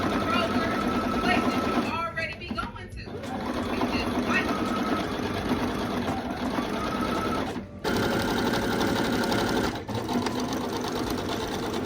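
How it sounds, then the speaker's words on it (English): A sewing machine stitches heavy patchwork columns of denim, running in steady fast bursts with brief pauses and restarts, loud and close throughout. "Sewing these columns together was so challenging because the fabric started to get really heavy."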